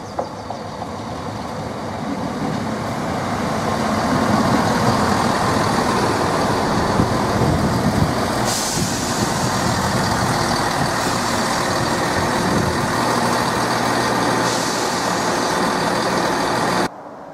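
A Class 172 diesel multiple unit, 172008 on a Cambridge service, pulls into Needham Market Station. A loud rumble builds over the first few seconds, then holds steady and close, with a brief sharp burst midway and no voices.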